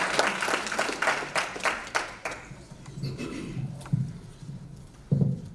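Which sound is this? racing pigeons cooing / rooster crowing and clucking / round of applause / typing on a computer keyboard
round of applause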